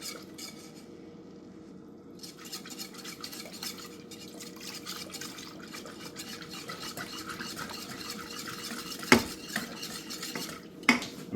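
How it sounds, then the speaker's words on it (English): Cream and milk being slowly whisked into a butterscotch pudding mixture, a continuous close swishing of metal wires through liquid against the pot, with a couple of sharper clinks near the end and no talking. "I'm gonna slowly whisk it in here."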